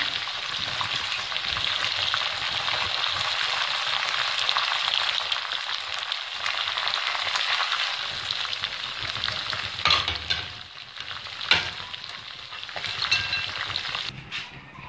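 Chicken frying in oil in a karahi gives a constant, fairly loud sizzle with stirring, plus a few sharper clinks and spatters near the end.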